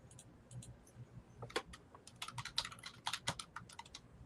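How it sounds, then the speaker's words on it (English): Someone types rapidly on a computer keyboard, with a busy, irregular clatter of key presses heard over an online call, fairly faint and slightly distant. "We could hear your keyboard going crazy."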